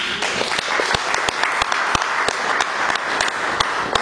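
A church congregation applauding during a sermon, producing a dense, steady wash of many hands clapping with a few sharper individual claps standing out, loud and close and continuing throughout.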